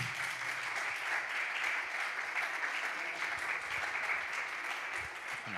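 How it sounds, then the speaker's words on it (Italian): A church youth service audience applauds two young women with sustained, steady clapping from a crowd, fairly distant, and no speech over it. "Fate un applauso per imbarazzarle"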